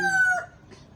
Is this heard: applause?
no